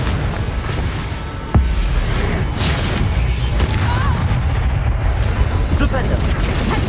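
A sharp explosive boom from the Confringo spell in Hogwarts Legacy cuts through dense game action noise and rumble, followed by continuing combat clatter.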